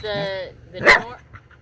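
A dog barks and whimpers at an RV campground by a lake, with a harmonic whine at the start and a single louder bark in the middle, heard close over a steady low hum.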